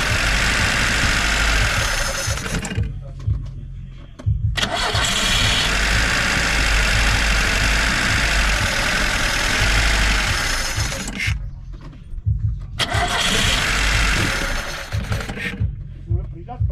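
An old Lada Zhiguli car engine cranks and idles loudly up close, cutting out twice into brief near-silence before catching again with a rough, throbbing run.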